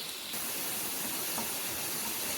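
Onion pieces drop into hot oil for a restaurant-style chicken curry and fry with a steady, soft hissing sizzle that continues evenly throughout.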